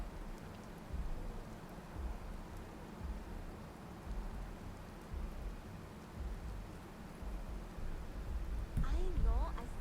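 Steady rain falls in the video game Starfield, a soft, constant hiss with low rumbling underneath and faint speech near the end.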